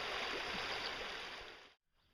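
A stream runs steadily near a campsite in Big South Fork, its broadband rushing water loud and continuous before cutting off abruptly near the end.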